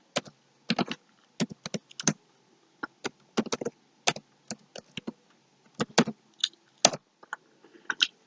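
Someone types on a computer keyboard, irregular crisp key clicks in short quick runs broken by brief pauses, close and clear with no voices.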